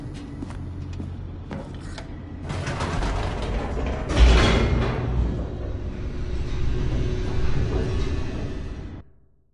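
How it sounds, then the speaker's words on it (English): A descending elevator mechanism in The Stanley Parable grinds and ratchets steadily, with a louder clanking jolt partway through, then cuts off abruptly at the end. "The elevator raced downward"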